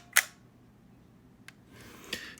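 A Kodak Instamatic X-15 camera fires one sharp shutter click, followed by a fainter mechanical tick and a rasping film-advance sound near the end, all close up in a quiet room.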